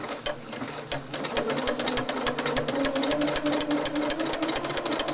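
A Janome 8077 sewing machine stitching fabric: a close, steady, rapid mechanical chatter of the needle that starts with a few separate beats, then speeds into an even, fast rhythm that runs unbroken to the end.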